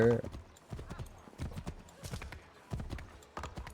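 Hooves of a white horse clip-clop steadily in Assassin's Creed III Remastered, a brisk rhythmic series of close thuds under game ambience, with a voice speaking over part of it.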